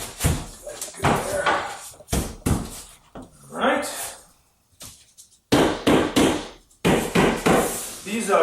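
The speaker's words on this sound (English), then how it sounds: "you're just going to love tap cabinet side in until it is fully contacted" A dead blow hammer taps a tall cabinet's side panel into place, a run of loud, close, dull knocks in quick bursts with short pauses between them. A voice briefly speaks in the middle.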